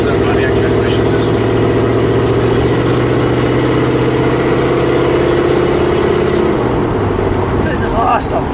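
A 1966 Pontiac GTO with a stock 389 engine and two-speed Pontiac transmission idles loudly close by, a steady low rumble with a slight rise in pitch, heard under people talking.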